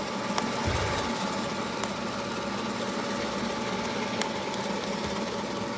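A Corretto coffee roaster runs while roasting Ethiopian Yirgacheffe, giving a steady rattling mechanical drone with a few faint clicks, moderately loud and close, with no speech.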